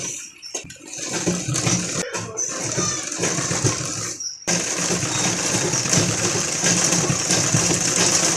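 Sewing machine running while stitching gharara fabric: a steady whirring drone that stops briefly with a few pauses, then runs continuously and loud.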